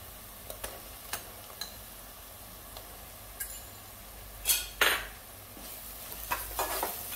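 Ginger, garlic, green chili and coriander paste frying in oil with softened onion, a low sizzle punctuated by sharp spoon taps against the pan and a couple of louder stirring scrapes.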